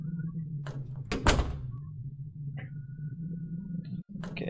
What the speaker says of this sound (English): I don't like these doors at all. They're really loud.